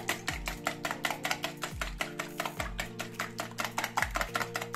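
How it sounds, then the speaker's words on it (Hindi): Four raw eggs are whisked with salt in a bowl, making a steady, fast run of rhythmic tapping strokes, several per second, close and moderately loud over faint background music. "इसमें थोड़ा सा नमक डालेंगे और इसे अच्छे से विस्क कर लेंगे।"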